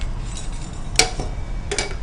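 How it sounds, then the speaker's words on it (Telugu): A gas stove is lit for frying in a home kitchen, giving a couple of brief, sharp ignition clicks over a low background hum. "ఇది ఫ్రై చేయడానికి మనం స్టవ్ వెలిగించుకుందాం."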